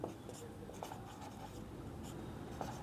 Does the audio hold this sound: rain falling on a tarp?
no